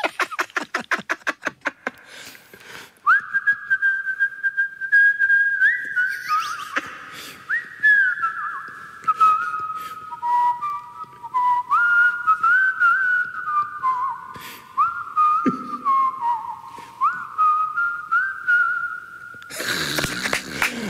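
A person whistles a melody over keyboard on a radio show, with clear sliding and stepping tones over about twenty seconds, preceded by a few rapid rhythmic notes and ending in a burst of noise.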